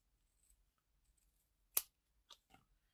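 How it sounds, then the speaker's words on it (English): Scissors snip through the end of a strip of card during cardmaking: one sharp, bright cut stands alone in near silence, followed by two softer clicks of the blades. "Glue scissors, chop off the end."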